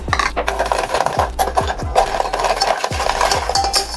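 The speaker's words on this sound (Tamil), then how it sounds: "ஸ்டவ்வில் ஒரு பாத்திரம் வச்சுட்டு ஒரு 100 கிராம் சர்க்கரையை வந்து கேரமலைஸ் பண்ணிக்கலாங்க" Sugar, about 100 grams, being stirred as it caramelizes in a pot on a stove, with a utensil scraping and rasping against the pan in steady repeated strokes, close and fairly loud.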